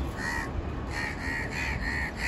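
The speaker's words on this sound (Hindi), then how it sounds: "ये देख सकते हैं कौवे लोग को" Crows caw outdoors in the early evening, about five hoarse calls in a fairly even rhythm at moderate distance over a steady background hum.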